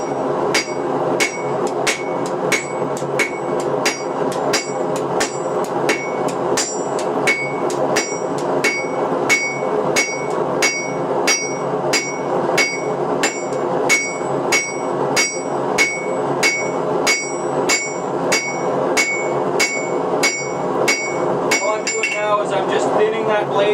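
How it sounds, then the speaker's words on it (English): A hammer rings on a hot dagger blade laid on a wet anvil at a forge, in steady, evenly spaced, loud metallic strikes close by for the whole stretch. No distinct louder pops stand out. "I put some water on the anvil to try and get rid of some of the scale that's built up on the sides of this blade"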